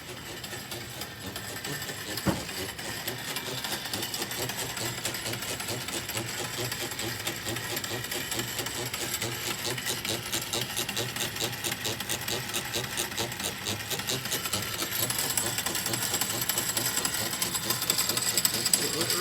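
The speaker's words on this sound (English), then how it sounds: "that power goes up across the ceiling and comes back down to this motor, which again is turning" An electric motor on a science teacher's classroom demonstration desk runs steadily, fed by power routed up across the ceiling and back down. It gives a continuous, dense mechanical whir for the whole stretch, growing slightly louder toward the end, with no clear talk.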